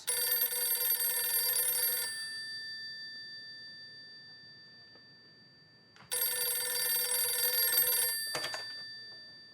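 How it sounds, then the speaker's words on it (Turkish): An old-style telephone bell rings loud and close in two long bursts of about two seconds each, separated by a quiet pause, with a clatter at the end of the second ring. "Telefon."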